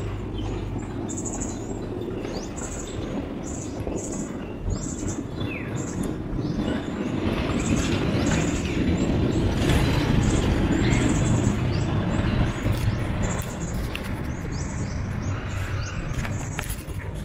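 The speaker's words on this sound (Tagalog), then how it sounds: "Banan Bamboo Train" A bamboo train in Banan, Cambodia, rumbles steadily along its rails, a continuous broadband clatter that swells slightly midway, with birds chirping faintly over the top.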